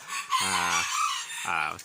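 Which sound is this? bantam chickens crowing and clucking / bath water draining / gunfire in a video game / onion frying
bantam chickens crowing and clucking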